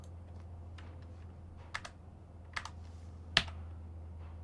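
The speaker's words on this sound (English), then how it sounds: "It's a Light Strike keyboard, a couple years old now." Keys clack on a Bloody Light Strike keyboard a couple of years old, a few scattered, quiet keystrokes over a steady low hum, with one sharper key press near the end.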